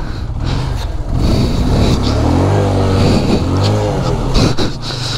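A motorcycle ridden over a rough off-road track near Sandakpur, Ilam, its engine running loud and steady throughout, with wavering revs rising and falling as it bumps along.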